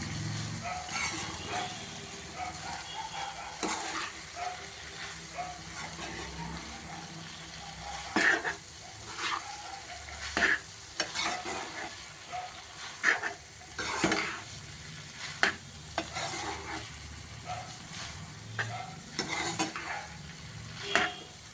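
Cooked rice tipped into a pan of vegetable pulao and stirred over low gas, a steady soft sizzle broken by repeated scraping clicks of a spoon against the pan, close and fairly quiet.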